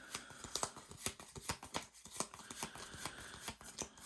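Arkham Horror game cards are shuffled in a steady series of crisp riffling and snapping bursts, close and fairly quiet, with no talk.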